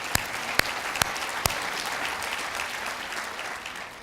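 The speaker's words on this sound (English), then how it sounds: "go ahead and clap." Audience applause fills a room at a university president's inauguration, a steady even wash of many hands clapping, with a few sharp louder claps standing out near the start before the sound carries on at an even level.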